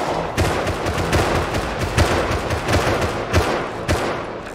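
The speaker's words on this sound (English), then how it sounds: "They're starting to shoot." Sustained gunfire from players in Rust, with repeated sharp shots and bursts at an irregular rhythm, fairly loud and dense, some reports closer and others more distant, over several seconds.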